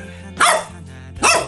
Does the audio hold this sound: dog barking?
yes